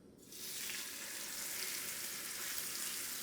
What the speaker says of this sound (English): You guys hear that sizzle?